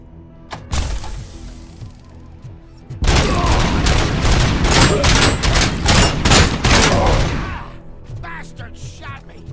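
Heavy gunfire in RoboCop: Rogue City: a few isolated shots, then a sustained loud volley of rapid blasts and impacts lasting several seconds before tapering into scattered pops, with a voice briefly mixed in.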